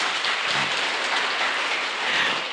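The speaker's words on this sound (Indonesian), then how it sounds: "Kita beri aplaus dong buat Bojonegoro ini" A talk-show audience in Bojonegoro applauds with dense, steady clapping that holds at an even level from start to finish.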